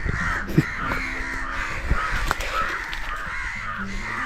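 Crows caw harshly and repeatedly in an Indian village, several birds calling at close to moderate distance against a steady outdoor background.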